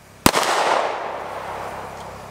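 A single loud gunshot from a firearm at an outdoor tactical shooting range cracks sharply near the start, followed by a long rolling echo that slowly fades.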